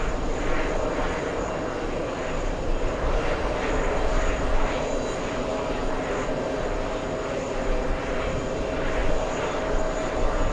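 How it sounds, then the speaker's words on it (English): An American Airlines Boeing 777, flight 67 from Barcelona, arriving near New York's TWA Hotel, a sustained loud jet engine roar with a steady pulsing drone, heard alone. "we do have an American Airlines 777. It's American 67 flying in from Barcelona"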